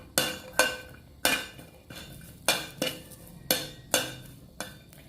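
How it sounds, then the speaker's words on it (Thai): A metal utensil strikes and scrapes repeatedly against a pan while garlic is dry-roasted, giving sharp, close clanks in an uneven rhythm, roughly a dozen over a few seconds, with a faint background between them. "คั่วกระเทียมของเราให้สุกหอมดีเลยค่ะ"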